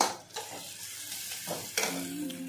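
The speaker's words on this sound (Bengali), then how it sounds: "তো দেখো, ভালো করে শুটকি মাছটাকে কষিয়ে নিচ্ছি" Dried fish being fried and stirred in a pan gives a short burst of soft sizzling, with a few scraping strokes heard up close and no talking.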